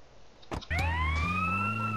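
Rising and sustained wail of an ambulance siren in GTA San Andreas, starting after a couple of short thumps and holding steady and loud with a low engine drone beneath, no talk.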